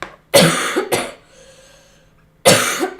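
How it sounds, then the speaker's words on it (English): A person coughs close to the microphone in three harsh bursts: two quick ones together, a pause with faint breathing, then a final cough. "Excuse my coughing, I'm so sorry."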